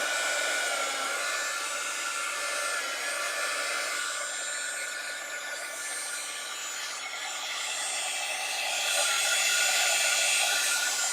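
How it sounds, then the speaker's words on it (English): A heat gun runs steadily with a continuous airy, blowing roar through a DTF sublimation transfer job, holding even with a slight swell near the end and no talking. "I'm going to put on my heat gun."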